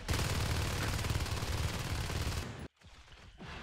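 Shotgun fire in the video game Natural Selection 2, a dense burst of rapid loud blasts packed together for over two seconds, then an abrupt cut to quieter game noise.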